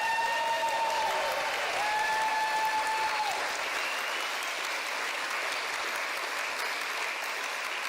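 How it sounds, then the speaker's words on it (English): Sustained audience applause fills a conference hall at an International Women's Day event, a dense steady wash of many hands clapping at even loudness throughout, with a faint tonal ring over the first few seconds. "So an applause for the men too,"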